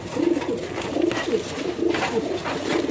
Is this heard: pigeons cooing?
yes